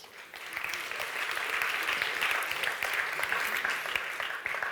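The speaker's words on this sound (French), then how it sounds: "On les applaudit." An audience at an awards ceremony, the Grand Prix du Brand Content 2021, applauds the Ubisoft Montréal bronze trophy with steady, dense clapping that swells and holds at full strength throughout.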